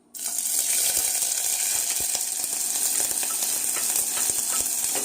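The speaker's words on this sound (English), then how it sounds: "And now let's put in the onions to cook down just a little" Onions hit really hot vegetable oil with a sudden sizzle that continues as a bright, steady crackling hiss, punctuated by small stirring clicks and pops, close up with no speech.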